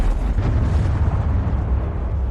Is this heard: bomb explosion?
yes